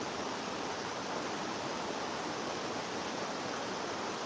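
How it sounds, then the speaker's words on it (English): A river in a national forest rushes steadily, a dense even roar of flowing water with no breaks, continuous and fairly close, with no voices. "But we got the awesome sound of nature and the river."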